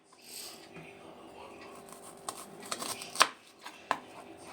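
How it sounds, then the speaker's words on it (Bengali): Knife cutting onions into long strips for a simple mustard-oil dish, a few sharp crisp chops scattered over a quiet kitchen background, faint and close. "একটু বেশি করে আমি পেঁয়াজ কেটে নিচ্ছি"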